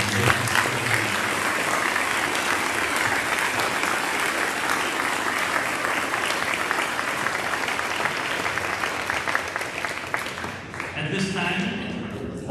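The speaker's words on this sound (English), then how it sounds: "If we could give them another huge round of applause." A long, full round of applause from an audience at a school Veterans Day program, honoring chorus and band students; dense clapping continues steadily, then thins near the end as a voice starts speaking.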